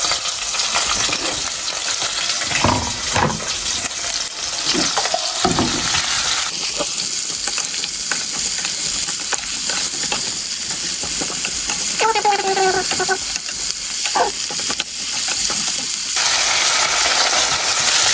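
Onions hitting hot oil on a home stove in a late-night kitchen, a loud continuous sizzle and hiss with bursts of spattering and stirring, up close and dominant throughout.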